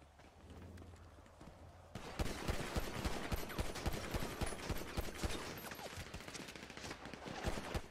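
Rapid bursts of AK rifle gunfire in GTA, a dense automatic rattle that starts abruptly after a quieter lead-in and continues loud and near, with repeated sharp volleys.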